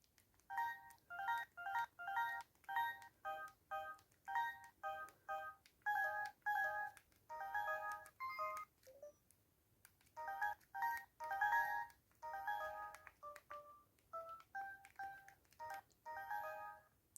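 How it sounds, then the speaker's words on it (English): Samsung J700i phone keypad beeps, a rapid run of short bright tones pressed one after another with a brief pause midway, close and clear with no talking. "I do like this one because of the keypad sounds."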